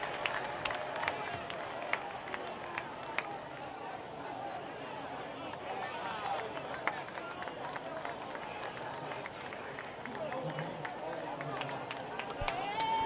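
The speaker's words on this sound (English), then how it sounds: "Thank you for your round of applause for number 1, Tyree Manning of the Indians." Crowd applause and cheering spread across a large outdoor high school football stadium, steady and fairly distant, with a general stadium hubbub underneath.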